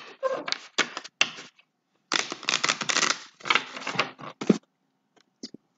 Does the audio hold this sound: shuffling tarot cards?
yes